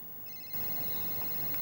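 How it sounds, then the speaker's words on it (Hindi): Mobile phone ringing indoors, a steady electronic ringtone with sustained tones that starts after a brief quiet moment and continues at moderate level against a noisy room background. "आई थिंक मेरा फ़ोन बज रहा है"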